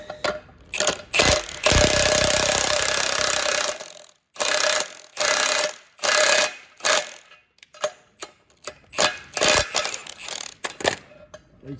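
Metal spanner work on the axle of a vintage Massey Ferguson 178 tractor: a run of ratcheting clicks and clanks in short bursts, some longer grinding stretches, close and loud with gaps between.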